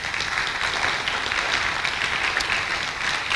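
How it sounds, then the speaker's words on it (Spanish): Loud applause fills a church service as the congregation claps hard for the Lord, a thick continuous wash of many hands with no voices breaking through. "¿Cuántos le dan un aplauso fuerte al Señor?"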